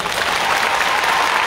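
Dense crowd applause at a protest rally, loud and close, a continuous burst of clapping throughout.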